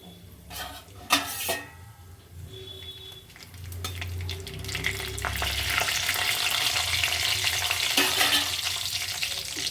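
A bay leaf and dried chili crackle in hot oil as a tempering with black cumin, starting with a few utensil clanks before a steady sizzle builds and carries on, close and moderately loud.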